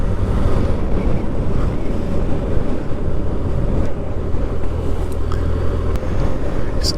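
A motorcycle riding along a road near Great Orton, Cumbria, heard as a steady low engine rumble buried under heavy, constant wind buffeting on the microphone, with no talking.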